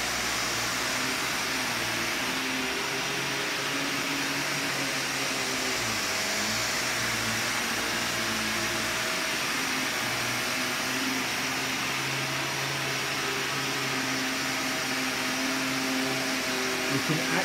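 A Vax Commercial VCU-03C vacuum cleaner running on carpet gives a loud, steady, unbroken roar of motor and suction with a constant low hum underneath, heard close up for the whole stretch.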